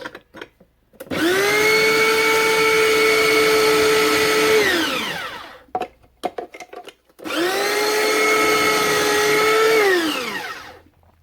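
Kitchen machine grating peeled cucumber for tzatziki runs in two bursts of about four seconds each, a loud steady motor whine that winds down at the end of each run, with brief clattering between them.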